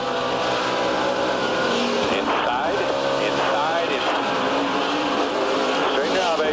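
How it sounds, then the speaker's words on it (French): NASCAR Sprint Cup race cars at the 2009 Dickies 500 at Texas roar steadily at high speed, with engine whine and tire noise as one car slams into the inside wall, all loud and continuous under a French commentator's voice. "il va là durement fracasser sa voiture sur le mur intérieur"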